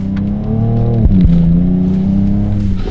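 A Ford Ranger Raptor pickup with Fox suspension accelerates hard over rough Baja-style terrain, its engine a loud, close, steady roar with rising harmonics and a brief jolt partway through.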